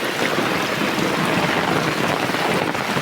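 Heavy rain pours down without a break in a hillside village in Tanahun, Nepal, a dense, loud, even hiss of falling water with no voices.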